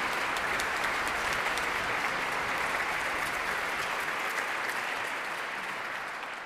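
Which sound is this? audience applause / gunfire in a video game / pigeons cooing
audience applause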